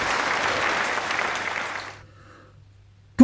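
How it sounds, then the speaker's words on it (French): Applause from a crowd of cartoon animals rises as a dense, even patter, fades out after about two seconds into near silence, then a sharp sound cuts in at the very end. "Tous les animaux ont commencé à applaudir."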